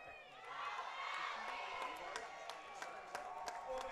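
A distant college football crowd at a Wilkes University game cheers and claps faintly, with a commentator talking over the background noise.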